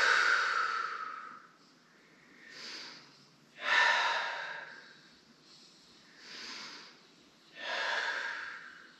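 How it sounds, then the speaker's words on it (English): Deep breaths during a stretch in a suspension trainer workout: five close, airy inhales and exhales alternate in a slow rhythm, the louder exhales gusting out with a sighing rush between quieter intakes. "Deep breath in and exhale."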